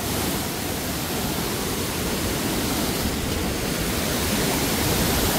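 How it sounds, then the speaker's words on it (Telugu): A waterfall roars in a constant, broad rushing wash of falling water, loud and close, steady throughout with no voices. "ఎంత బాగుందో చూడండి వాటర్ ఫాల్."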